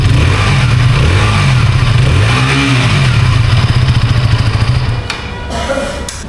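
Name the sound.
motorcycle engine revving exhaust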